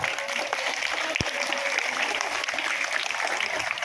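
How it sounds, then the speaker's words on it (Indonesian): Schoolchildren applauding a pupil named Bastian at an anti-drug awareness session at an elementary school, a steady, even patter of many hands clapping with one sharp knock partway through. "Monggo, tepuk tangan untuk Bastian ya."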